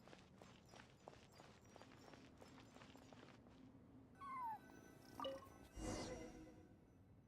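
A cat meows in Genshin Impact, a few short, thin cries near the end, after a run of light game footsteps over quiet background sound.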